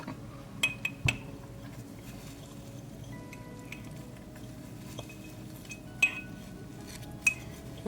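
A spoon stirring a dream tea mixture in a Hello Kitty cup gives faint, sparse clinks and taps against the cup in a quiet room, with no voices.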